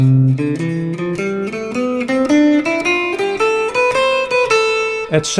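An electric guitar climbs a scale with a lilting swing rhythm, long-short note pairs stepping upward steadily and clearly, with no talking.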